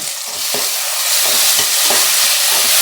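Loud, busy sizzle of beans going into a hot pan with curry leaves for veg fried rice, with repeated scraping stir strokes cutting through the continuous frying hiss.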